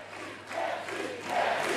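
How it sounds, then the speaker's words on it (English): A large crowd shouts and cheers at Emmanuel Macron's first-round French presidential election victory event, a loud, continuous roar that swells in waves and rises toward the end. "the crowds are shouting, thank you."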